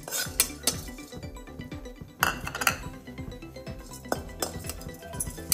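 Cardamom and coconut dry-roasting in a pan for a Kolhapuri kat vada, with repeated metallic clinks and scrapes of a spoon against the pan over a low steady background.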